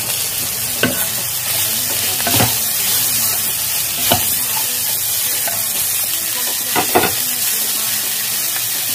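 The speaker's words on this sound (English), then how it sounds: "Now we will mix almost 150 gram chopped cabbage." Chopped cabbage, about 150 grams, stirred into frying soya taco filling in a pan, with a steady close sizzle and periodic scraping stir strokes, no talking.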